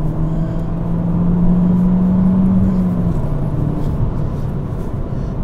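A Peugeot 208 GTi accelerates hard along a road, a steady engine drone heard from inside the cabin with a rising tone that levels off, loud and continuous under road noise without talk.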